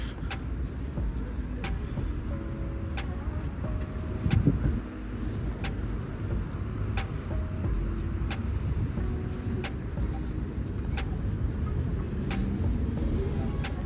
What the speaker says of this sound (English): Tesco delivery truck passing through the city.